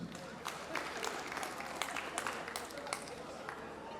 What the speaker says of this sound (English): Now clap for yourselves.